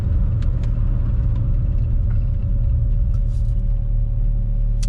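A tuned Honda-style engine idles on its low cam with VTEC not engaged, producing a loud, close, steady rumble with a constant droning tone and a few faint ticks over the top.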